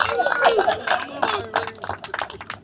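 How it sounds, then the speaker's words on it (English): Wedding guests aboard a yacht in Palma de Mallorca applaud the staff, a lively burst of clapping mixed with cheering and chatter from a nearby crowd. "Round of applause for the staff,"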